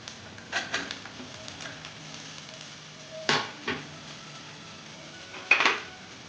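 Long-cut potato pieces dropped into a pan for a rohu fish curry with drumsticks, a few sharp clatters and scrapes of utensils against the pan over a faint low sizzle.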